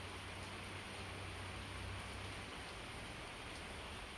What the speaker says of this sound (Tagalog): Alas ang ulan. Maulan na naman.